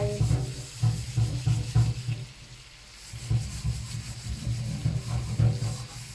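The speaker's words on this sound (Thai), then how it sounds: "ล้างหม้อกระทะอีกใบ" Scrubbing and washing a pot or pan while cooking frog dishes, a series of rhythmic rubbing and scraping strokes, close and fairly loud, with a short pause midway before the scrubbing resumes.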